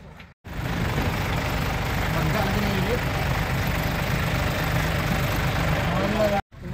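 A manual-transmission 4x4 vehicle with a DE17B engine idles steadily at close range, a low continuous rumble that runs throughout with brief drops at the start and end, and voices are audible over it.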